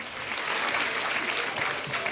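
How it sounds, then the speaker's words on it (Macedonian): A school audience at a patron-day ceremony claps for seventh-grade students, a dense, even burst of applause filling the short moment. "Да ги поздравиме со аплауз и учениците од 7 оделение"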